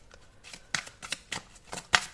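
Tarot cards being shuffled by hand in short, crisp riffling bursts, about five distinct flicks spaced irregularly, close and clear with no voice over them.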